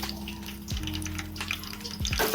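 Halved green chillies fry in a hot kadhai with a steady close sizzle and crackle, punctuated by a few brief clatters and bursts.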